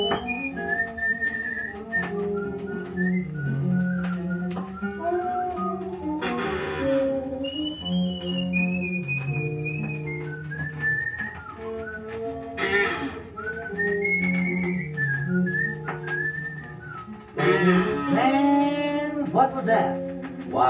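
A whistled imitation of a bluebird's song trills and warbles over an old shellac-era band recording, rising and falling in bright phrases with voices heard alongside the music.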